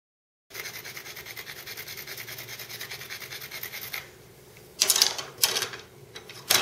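Rough scraping and rubbing on a river cane arrow shaft, roughening the surface ahead of a sinew wrap. It runs as a steady, faint rasping stroke rhythm for several seconds, then gives way to a few louder, separate scuffs near the end.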